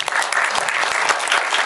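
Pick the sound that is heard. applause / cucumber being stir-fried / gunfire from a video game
applause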